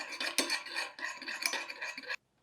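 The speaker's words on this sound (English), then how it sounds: "now we just stir it all in till it becomes completely melted" A utensil stirs melting ingredients in a bowl for egg yolk waffles, a quiet close clinking and scraping against the bowl in a few uneven strokes that stop abruptly.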